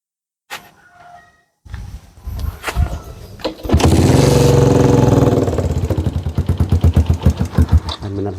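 A hard-starting MX motorcycle gets a few brief cranking attempts, then the engine catches and roars loudly and steadily before settling into a pulsing, rhythmic idle.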